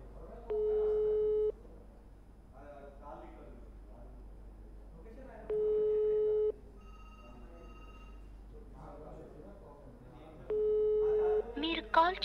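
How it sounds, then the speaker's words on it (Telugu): Three steady ringback tones, each about a second long, repeat at roughly five-second intervals while a voice talks faintly in the background; the call goes unanswered. "ఎస్ రింగ్ అవుతుంది కానీ ఆయన మాత్రం ఫోన్లు అటెండ్ చేయట్లేదు"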